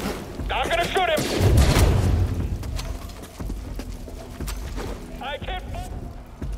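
Blaster-style gunfire from the Star Wars Jedi: Fallen Order video game, with bursts of shots and booms over a busy game soundtrack while a player talks excitedly throughout.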